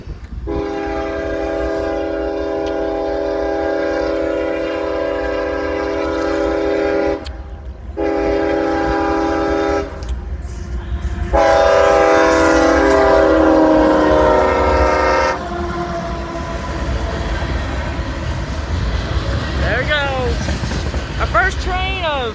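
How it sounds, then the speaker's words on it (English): A train passes along Depot Street in Chapel Hill, Tennessee, sounding a loud, sustained multi-tone horn in several long blasts over steady rumbling wheels, with voices chattering nearby toward the end. "Our first train of Rail Fan Appreciation Day."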